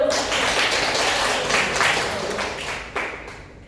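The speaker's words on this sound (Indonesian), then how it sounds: "tepuk tangan dong Mbak" A class clapping hands, a steady wash of mixed claps that holds for a few seconds and slowly fades.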